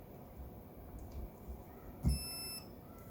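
A single short electronic beep from a Perun V2 Hybrid receiver sounds once, clear and near, over a quiet background with a faint steady high whine.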